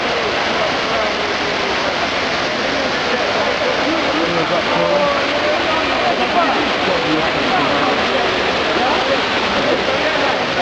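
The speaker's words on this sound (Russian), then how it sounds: "Фонтан травит." Water gushes from a fountain in Rome as a loud, steady broadband rush, with people talking faintly through the splashing.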